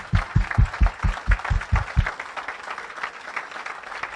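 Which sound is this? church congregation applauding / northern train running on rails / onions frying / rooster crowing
church congregation applauding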